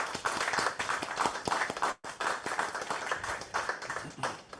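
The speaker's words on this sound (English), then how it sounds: "Can we get a round of applause for them?" Steady applause fills a conference hall at an internet governance forum for a panel of speakers, dense clapping from a seated audience that dips briefly halfway through, then carries on.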